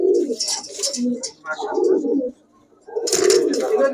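Giribaz high-flyer pigeons coo close by in a pigeon shop in low, throaty bursts, pausing briefly before another round of cooing starts.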